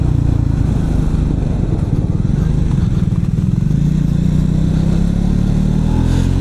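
Motorcycle ridden on a winding hill road near Ooty in December, a steady close engine drone with low rumble and wind buffeting throughout, no talk.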